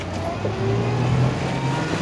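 The engine of a Shearwater 890S RIB boat picks up speed smoothly, a low steady drone rising gently in pitch under wind and water noise, close and fairly loud.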